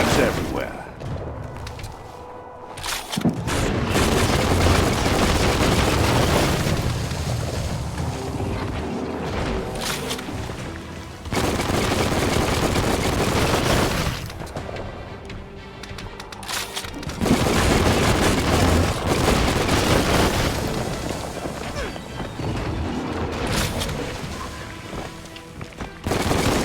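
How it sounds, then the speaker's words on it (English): Constant, dense gunfire and booming impacts in the video game Biomutant roar loudly over the full span, with brief lulls between heavy sustained stretches; a narrating voice speaks over parts of it. "Bullets everywhere."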